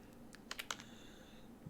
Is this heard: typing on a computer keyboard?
yes